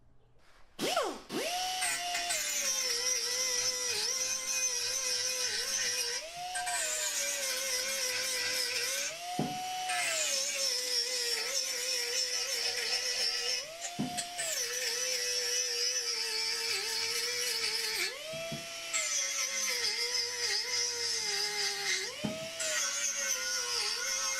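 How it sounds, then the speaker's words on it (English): A yellow Rolex abrasive disc on a rotary tool whines steadily as it grinds the steel oil sump of a Peugeot 106 1.1 TU engine, its pitch dipping and rising with pressure in repeated passes, close and continuous with brief pauses. "Again now using the yellow Rolex disc, this time on the steel sump to prepare for its mating."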